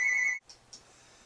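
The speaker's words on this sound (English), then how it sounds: "we were interrupted by the phone ringing" An electronic telephone ring sounds as a single steady tone that stops abruptly, followed by a couple of faint clicks in a quiet room.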